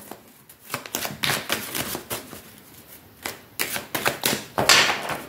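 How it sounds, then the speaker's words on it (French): Tarot cards are laid down one after another over other cards on a table, making soft papery slaps and brushing flicks in uneven clusters, close and fairly quiet, with no voice. "Je vais juste recouvrir ces deux cartes"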